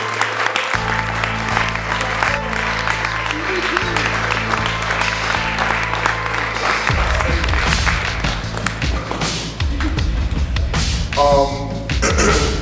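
Loud audience applause and cheering welcomes the teacher at a hip hop gathering, with music playing under the clapping before it drops out partway and the crowd noise carries on, thumps and taps mixed in.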